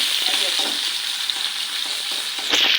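Fish pieces fry in a pan with a steady broadband sizzle that holds throughout, close and fairly loud, with a few faint scrapes and a brief louder crackle near the end.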